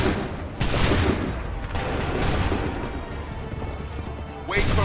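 In the Assassin's Creed 3 video game, a line of musket fire crashes out in a dense volley, loud and sustained, with another burst of shots at the end.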